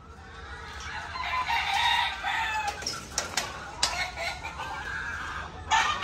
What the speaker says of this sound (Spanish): Gallinas de Arti Ayala.